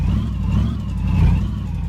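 An old Satellite car's engine runs as the car rolls along, a loud, steady low rumble with a slight swell in revs, heard up close with no talk.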